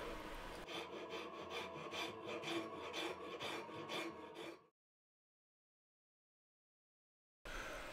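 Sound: rasp shaping the wooden bow of a baidarka kayak

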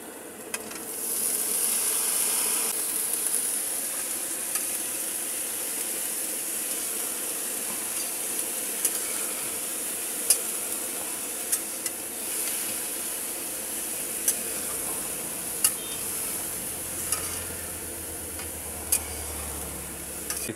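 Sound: cabbage and potato frying in red chilli paste

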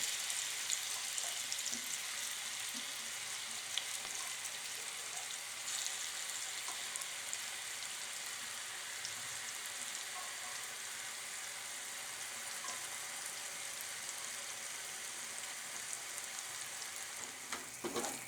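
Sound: beefsteak fungus mushroom frying in oil in a pan

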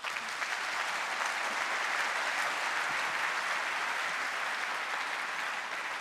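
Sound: audience applause

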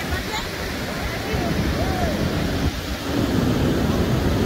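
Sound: ocean waves on a beach

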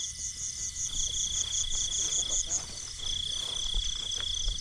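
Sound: crickets chirping in rice field

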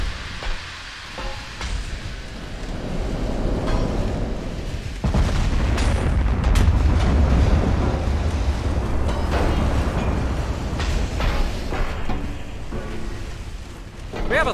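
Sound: battleship 17-inch gun salvo in video game Ultimate Admiral Dreadnoughts

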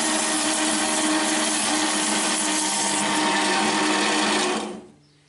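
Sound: bandsaw cutting off a metal part

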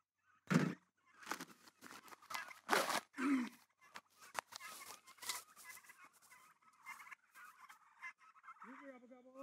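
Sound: turkeys gobbling

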